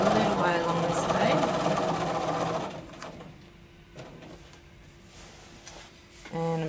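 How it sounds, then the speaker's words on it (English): A sewing machine stitches steadily and loudly during free-motion quilting of a maze pattern, then stops, leaving a quiet hum and faint handling noises before a short burst of stitching resumes at the end; a person speaks over the machine. "And I'll stitch a little way along this way."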